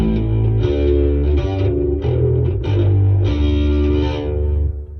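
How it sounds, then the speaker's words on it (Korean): Heavily distorted bass ukulele through a mini amp playing a slow, sustained riff of a few long notes, loud and gritty, with no voices. "자, 그 다음에 이제 조금 디스토션 계열이 들어가는 소리를 들려드릴게요."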